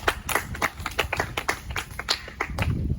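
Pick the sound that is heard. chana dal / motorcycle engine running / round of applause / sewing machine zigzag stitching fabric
round of applause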